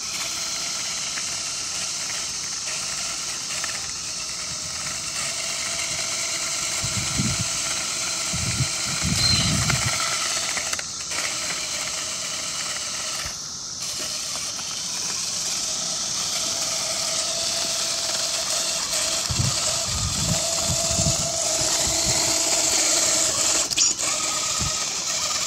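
A small TeenieKatana robot vehicle, joystick-driven with sideways driving and rotation, whirs steadily on a road test, its motors and gears giving a continuous mechanical hum with a few louder low bursts.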